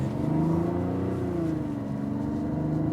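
A Mazda CX-90 Turbo S Premium Plus is driven into a corner with some speed, its engine drone loud and steady inside the cabin, pitch easing slightly down then settling.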